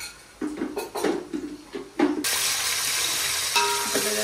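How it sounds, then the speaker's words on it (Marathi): Onion and curry leaves frying in a pan for a chicken masala gravy, with stirring clatter and scraping at first, then a steady loud sizzle that continues to the end. "थोडं कांदा आणि कढीपत्ता भाजून घेतल्यानंतर"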